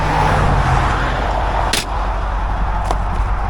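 Steady roar of highway traffic rushing past a roadside tow stop at 70 to 80 miles an hour, a continuous wash of tire and engine noise with a couple of sharp brief knocks or slams.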